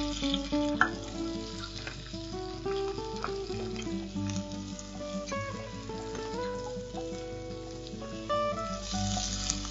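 Chopped onion frying in hot oil with mustard seeds and urad dal, a steady close sizzle with stirring clatter, continuous for several seconds with no talking.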